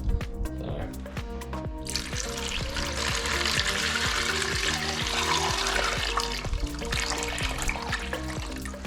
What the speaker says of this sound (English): add enough water until it's covered.